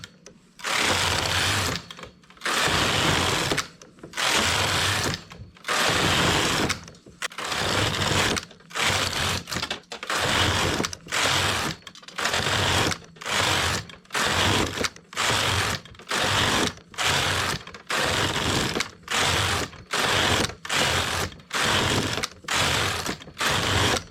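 A domestic knitting machine works a sleeve cuff, its carriage swept back and forth in steady rows, each pass a loud mechanical whirring rattle separated by short gaps, repeating rhythmically for many rows.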